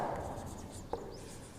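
Continuous scratching of a marker or chalk on a classroom board, steady and close, with one brief tap near the middle and no talking.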